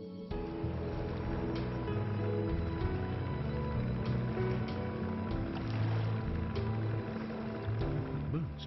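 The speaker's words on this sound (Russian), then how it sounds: "Лодки ездят так медленно для того, чтобы не потревожить ламантинов." A boat moving slowly on a calm river in the Everglades manatee waters, a low steady engine drone with soft water movement, continuous and fairly close throughout.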